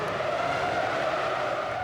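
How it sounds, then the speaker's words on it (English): Formula 1 cars from the 2001 season, led by the Williams pair, accelerate away from a chaotic race start in a continuous, loud, high-pitched engine roar with no talking. "The Williams drivers leave the mayhem and Michael Schumacher behind, with Juan Pablo Montoya leading the charge."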